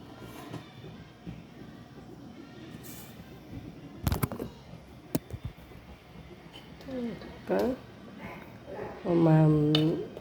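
A cooking pot set on a stove in a home kitchen while preparing moringa-leaf buttermilk curry, giving a couple of sharp metallic clinks amid faint background noise, followed by a voice talking.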